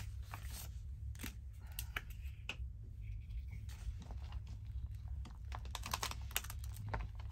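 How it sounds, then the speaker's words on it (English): Paper torn by hand while adding a flap to a Christmas journal page, heard as several short dry rips and crinkles over a steady low hum, close and fairly quiet. "So on this side, I'm just going to tear it a little bit"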